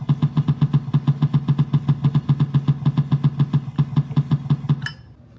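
Loud, close Harley-Davidson motorcycle engine idling in a museum, thumping out an even, loping rhythm of heavy pulses before cutting off abruptly near the end, leaving quiet.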